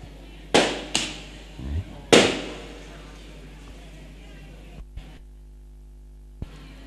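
Three or four sharp firecracker bangs crack out in quick succession, fairly close and loud, followed by quieter pops and faint clicks in an otherwise calm background.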